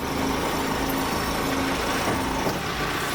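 A steady, loud engine of a UTV Achiever RT-02 digger derrick utility truck idles continuously with a low rumble and broadband noise, no voices, holding an even level throughout.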